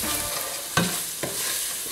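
Fried onions stirred with veal stock powder in a pan for a chicken liver tajine, a constant sizzle broken by two distinct spatula scrapes or knocks.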